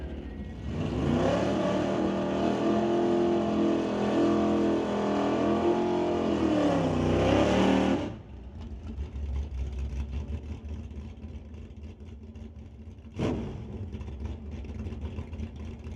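A drag racing car struggles for traction at the starting line of an NHRA Summit ET Series event, its engine roaring loudly for several seconds, then cutting off into distant track noise with a sharp bang near the end.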